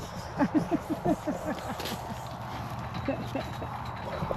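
Horse hooves clip-clop in a quick series of distinct, fairly close strikes on a farm visit, then fade into quieter outdoor ambience with scattered faint steps.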